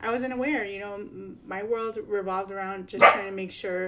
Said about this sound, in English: that's my dog. She wanted to be in on this conversation.